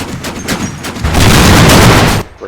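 Gunfire in the World War II game Combat Mission: Final Blitzkrieg, rapid loud bursts of shots merging into a sustained roaring volley, close and intense, cutting off abruptly near the end.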